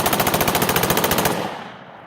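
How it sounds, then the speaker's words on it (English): A machine gun fires a short burst of live rounds at a military camp demonstration: a rapid, evenly spaced string of loud close shots at a very high rate of fire, then an abrupt stop with a fading echo. "And that was basically 40 rounds right there. That quick. Very, very high rate of fire."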